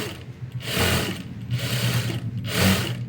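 A sewing machine stitches along a folded edge of a blouse in three bursts of rapid mechanical whirring, each separated by a brief pause, close and fairly quiet.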